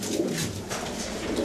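A pigeon coos softly and steadily inside a loft, its low throaty calls continuous under a broad hiss of ambient noise.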